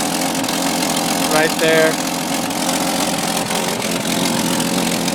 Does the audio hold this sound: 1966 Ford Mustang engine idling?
yes